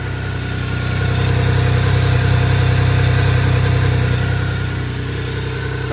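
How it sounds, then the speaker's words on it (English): A CFMOTO UTV engine idles steadily with no hunting or hesitation, a constant low mechanical drone that holds even and close throughout. "It goes to idle and it stays there perfectly."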